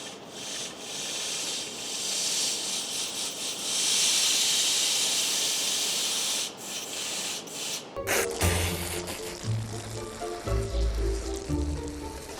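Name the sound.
compressed air blowing out fuel line, 1986 Ford F150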